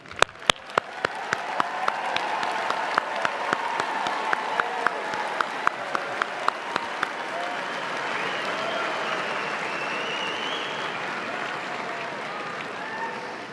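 A large crowd applauds honors graduates at a university spring commencement, with sharp individual claps near the start spreading into a broad sustained ovation that holds steady and then thins slightly.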